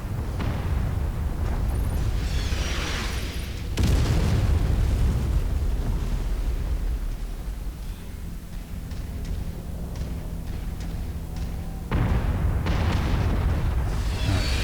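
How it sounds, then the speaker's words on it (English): Artillery explosions pound a battlefield in Mechwarrior 5 Mercenaries: loud, deep booming blasts with rumbling tails, the heaviest hits landing near the start, middle and end. "taking a lot of damage just off this artillery"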